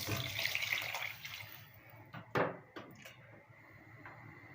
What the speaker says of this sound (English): now I'm going to add some water to the meat